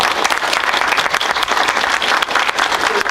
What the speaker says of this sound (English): I will ask you a round of applause for all of